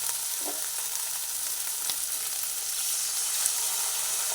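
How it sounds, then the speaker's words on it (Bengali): Bhola fish masala sizzles steadily in a pan as water is added, giving a constant close hiss with a few faint clicks and no talk. "জল দিয়ে দিলাম"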